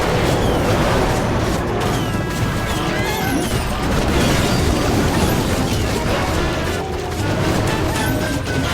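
Bomb explosion in the video game Clash of Clans, with loud crashing smashes and bursts over constant dense battle noise, no talk.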